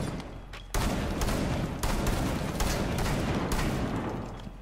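Rapid bursts of gunfire in the video game Rainbow Six Siege, shooting through blue boxes on the Club House map, loud sustained volleys that stop briefly and then resume.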